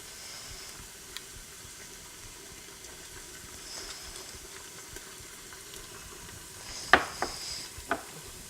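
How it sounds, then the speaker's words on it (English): Ingredients for Nigerian spaghetti jollof fry and are stirred in a pan: a steady soft sizzle and hiss runs throughout, with a few louder scraping stirs of a spoon near the end. "I'm going to fry that first"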